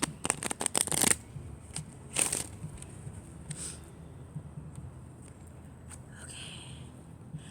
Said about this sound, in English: Go ahead and give a great shuffle.